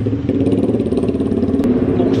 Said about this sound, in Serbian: glasni motori, ne mogu da verujem.